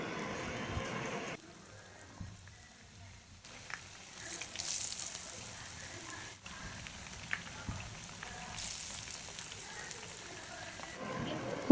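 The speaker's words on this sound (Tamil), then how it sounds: "எண்ணெயில் போட்டு நல்லா பொரிச்சு எடுக்கணும்." Sliced onions coated in batter deep frying as onion bajji in hot oil, a steady bright sizzle and crackle, close, with brief louder surges and some clatter.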